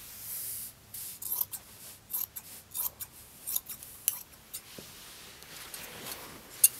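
Scissors snip through fabric for a halter jumpsuit in a run of short, close cutting strokes with small pauses between them, each crisp and fairly soft, with no talking.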